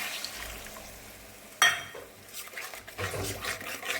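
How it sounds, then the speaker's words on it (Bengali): Mustard paste goes into frying spices for a Bengali pabda fish mustard curry, landing with a sudden loud splash and sizzle, then a steady crackling fry with spoon scrapes against the pan. "এখন আমি সর্ষেটা দিয়ে দিচ্ছি।"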